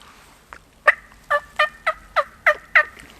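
A wild turkey gobbling, a sharp rattling series of about seven loud pulses in quick rhythm, clear and fairly close against a quiet outdoor background.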